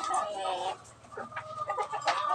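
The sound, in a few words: Rhode Island Red chickens clucking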